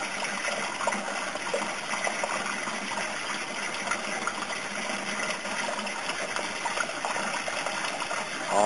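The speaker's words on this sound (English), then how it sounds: "That's where the water in that siphon is starting to come together and form an actual whirlpool cone." Water gushes and swirls steadily through a 2-inch standpipe auto bell siphon under a 3-inch bell in an aquaponics setup, forming a whirlpool cone. The rushing, flush-like sound is close and continuous for the whole stretch.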